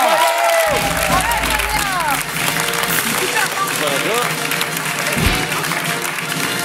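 A French TV talk-show studio audience applauds and cheers in a steady, dense roar. Scattered voices call out over it, and a brief low thump lands near the end.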